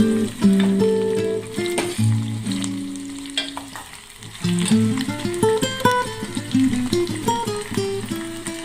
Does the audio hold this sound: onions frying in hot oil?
yes